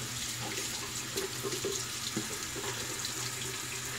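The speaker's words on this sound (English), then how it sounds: "get the warm water going." Warm water runs steadily from a tap into a sink before a razor shave, a soft continuous splashing hiss at moderate distance with a few faint bumps and no talk.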